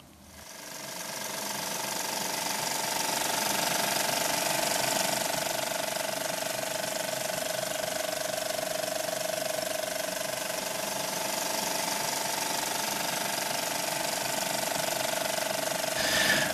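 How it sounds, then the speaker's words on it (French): A 35 mm film print running through a projector at a final screening, a steady close mechanical whir and rapid ratcheting clatter that holds evenly throughout, with no voices. "Ça, c'est un bruit de pellicule,"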